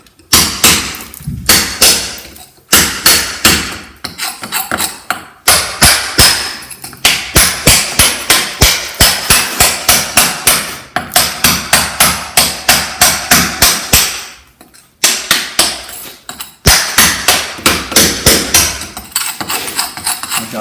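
Hammer driving a chisel into a stone wall to chase it out, loud sharp metallic strikes in rapid bursts with brief pauses between runs.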